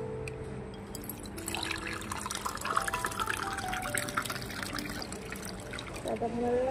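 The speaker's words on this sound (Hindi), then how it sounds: "पानी निकल गया बाहर बाउंड्री से।" Water trickles and splashes steadily at a moderate distance, with faint voices and background sounds mixed underneath.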